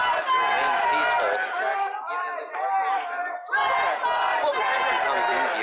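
Crowd during street unrest in Kenosha, a dense babble of many voices shouting and chattering close by, loud and sustained with a brief dip in the middle.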